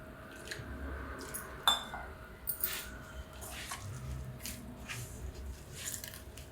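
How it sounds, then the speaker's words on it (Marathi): Puri dough of flour and fine semolina being kneaded by hand with water added little by little: soft, close, irregular wet squishing and squelching with occasional light clicks against a bowl. "असं हे सगळं मळून घेते पाणी घालून थोडं थोडं"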